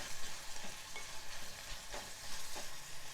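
Finely chopped tomatoes frying in a pan for a chickpea chaat, a soft steady sizzle with occasional stirring scrapes, close by and moderately quiet, with no voices.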